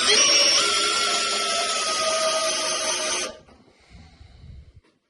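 A Makita cordless drill driving a screw on its lowest speed setting gives a loud, steady close-up whir for about three seconds, then cuts off abruptly, leaving faint handling noises.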